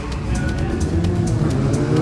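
Honda Civic Cup race cars run at Oulton Park, producing a loud, steady engine drone with a rhythmic pulsing texture, close and continuous for the whole stretch with no talking.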